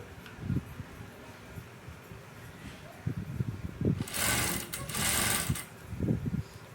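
An S2 sewing machine stitches piping, its needle running in short rapid bursts that swell into a louder sustained whir near the end, close by with no talking.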